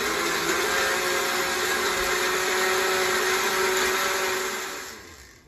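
A blender runs steadily at high speed, loud and close, whirring through hot salsa madre ingredients for several seconds before winding down at the end.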